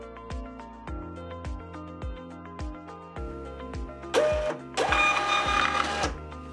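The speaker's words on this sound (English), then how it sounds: "Now we can hit print and verify." A shipping label printer connected over an Ethernet network prints a label, with a steady series of rhythmic mechanical ticks and feed pulses, then a brief louder whirring burst near the end, close and alone without talk.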